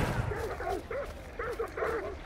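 Dogs barking in a video game, a run of short yelping barks in quick clusters with brief pauses, fairly close over a rumbling game background.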